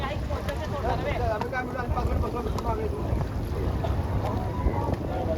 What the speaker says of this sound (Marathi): ही बघा बोट आपली बोटीत बसला